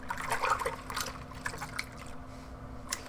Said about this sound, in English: So now I'm going to take the mask, try and drip it off the best I can, rinse it off in the water.